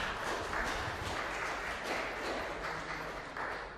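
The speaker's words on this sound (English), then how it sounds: "a round of applause for Nanda and for the Deokaran family" Audience applause at a Human Rights Day commemoration event, a dense, even wash of many hands clapping at moderate distance, sustained without a break.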